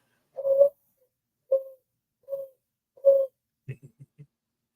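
A person imitates an owl call with four short hooting notes spaced about a second apart, followed by a few lower, quieter hoots, close up and with no talking.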